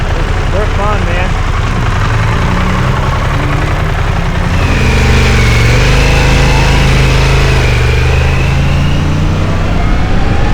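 A 2025 Harley-Davidson Pan America ST motorcycle accelerating hard with its quick shifter, a loud, steady engine roar with rising and shifting tones, close up and heavy with wind noise.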